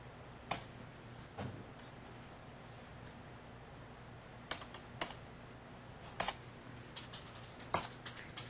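Someone types on a computer keyboard in a family court setting, producing sparse, faint keystroke clicks in small irregular clusters against a quiet room hum, with no speech.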